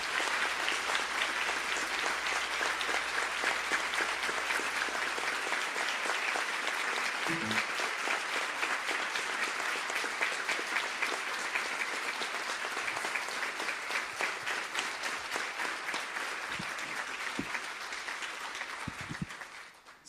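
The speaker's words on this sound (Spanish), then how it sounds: "todos demos un aplauso para celebrar esa existencia de Nelson" A conference audience at a panel on savings groups gives a long, sustained round of applause in honor of Nelson Mandela, many hands clapping densely and loudly for about twenty seconds before slowly thinning toward the end.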